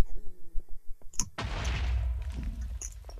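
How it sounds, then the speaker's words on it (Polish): A sudden burst of crackling noise followed by a rumbling, sustained blast, like a game explosion in Minecraft's Nether, after a few soft thumps and clicks. "Coś zaraz wybuchnie."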